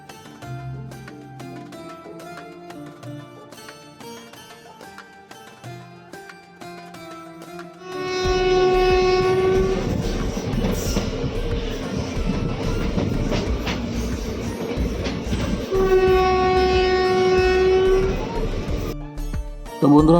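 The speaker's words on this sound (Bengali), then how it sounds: "তো চলো এখন আমরা ট্রেনে উঠে পড়ি," A passenger train at the station gives a loud, sustained horn blast that sounds twice, once about eight seconds in and again later, over the steady rumble and clatter of rail cars after a quieter stretch of station bustle.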